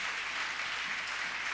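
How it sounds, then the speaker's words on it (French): Congregation applauding during a church service, a short dense burst of steady clapping from many hands, moderately loud and continuous with no talking. "acclame Jésus qui t'aime tant"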